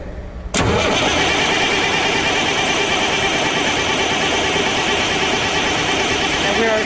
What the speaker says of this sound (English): we will crank the engine